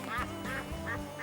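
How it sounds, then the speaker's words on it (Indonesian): Duck quacking inside a home, several close, loud nasal quacks in an uneven rhythm over about a second, with no talking. "Suara bebek."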